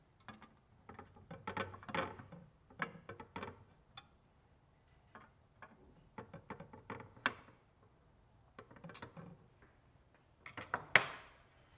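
Brackets on a Navidok Overlander upgrade kit being screwed tight, giving scattered bursts of close, faint mechanical ticks and ratcheting clicks with short pauses between them, ending in a louder cluster.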